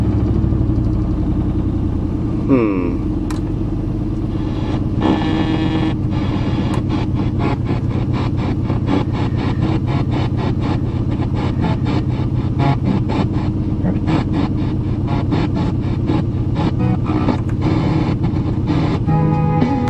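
A 1988 Chevrolet pickup truck engine with no belt runs with a rough, rhythmic idle, its steady low chug punctuated by regular ticking pulses, close and continuous.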